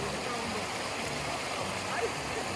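River water runs at the San Cristóbal de la Barranca hot springs in Jalisco, a soft, continuous flowing rush heard alone, fairly quiet, with no voices.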